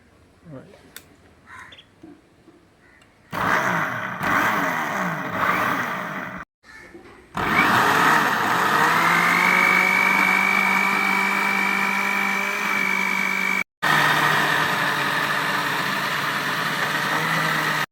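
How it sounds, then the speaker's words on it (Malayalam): A kitchen mixer grinder whirs loudly while blending an Oreo milkshake. It starts in a short burst, pauses, then runs steadily with a rising motor whine, cutting out for a split second before carrying on. "നന്നായി അടിച്ചുകൊണ്ടിരിക്കുകയാണ് ഇപ്പോൾ."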